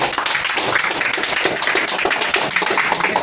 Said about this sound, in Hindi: मैं सबके अब तक की एक जोरदार ताली चाहूँगा अपने लिए